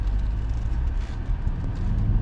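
BMW X7 M50i cruising on the road, a steady low rumble of engine and tyre noise heard from inside the cabin, continuous and fairly loud with no talking.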